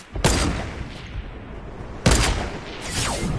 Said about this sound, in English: Oh my god, I got sniped from the left.